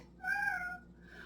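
A house cat meows once, a clear drawn-out indoor call of under a second, close and alone against quiet room tone.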